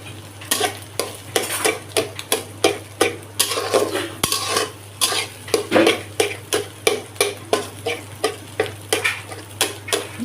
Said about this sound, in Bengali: এবার এই কড়াইতে নুডলসটা ভাজবো